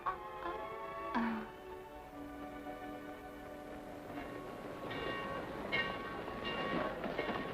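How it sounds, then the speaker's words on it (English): A train sits at a station ready to depart, a steady rumbling hiss of rail cars with a brief horn-like tone early on and mechanical clanks building toward the end. "Better hurry, folks. Your train's about to leave."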